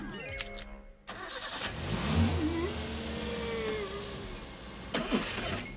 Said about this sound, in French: c'est un moteur turbo à densité variable avec piston rotatif à valve hydraulique